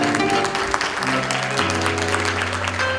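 Concert audience applauding for one of Paraguay's noted artists, a dense steady wash of clapping over sustained musical tones throughout.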